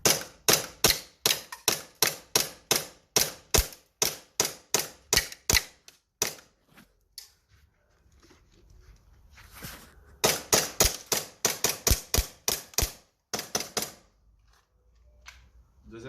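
Airsoft Glock pistol from Inokatsu fired in rapid strings while testing tactical goggles: a long run of sharp snapping shots, a brief pause, then a second volley, loud and close.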